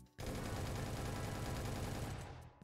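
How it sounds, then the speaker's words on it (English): Heavy automatic fire from a big gun in Minecraft Bedrock's Epic Fight combat addon, a loud dense sustained burst starting abruptly and running about two seconds before tailing off. "Then big gun. This might be a bit loud, but..."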